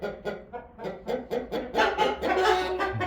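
Fighting-breed roosters for sale cluck and make short, repeated crowing calls, loud and close. Overlapping cries build into a longer call near the end, with no talk.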